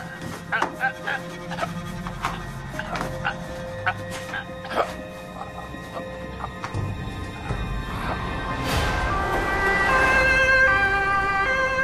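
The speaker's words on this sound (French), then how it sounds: "Commissaire Voss, envoyez une ambulance au 24 Belgrade Strasse." An ambulance siren wails, growing louder toward the end, with dogs barking and street noise around it.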